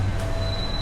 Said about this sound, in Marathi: आम्हाला अंडरग्राऊंड मेट्रोने ट्रॅव्हल करायला खूप आवडतं